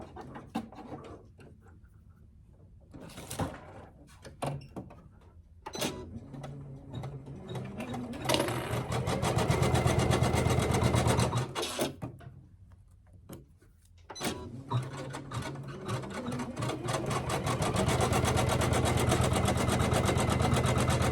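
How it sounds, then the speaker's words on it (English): An embroidery machine stitches out a placement line, a close, loud mechanical whir that starts and stops in bursts, with steady rapid needle chatter building to a continuous run toward the end. "And then go ahead and stitch out my placement line."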